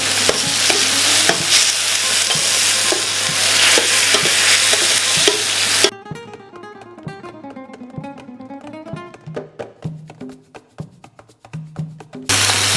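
Onion and garlic frying in a pan for mushroom and asparagus paella, stirred with repeated scraping clicks over a loud, dense sizzle for about six seconds, after which music takes over.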